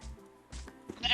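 Sheep in the Minecraft video game bleat in short bursts, three or four quick cries with a brief gap between them, fairly quiet and without talk.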